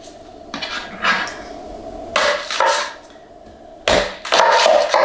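Knife chopping through an onion on a cutting board for a frittata, several irregular sharp thuds and knocks in short bursts, close and fairly loud.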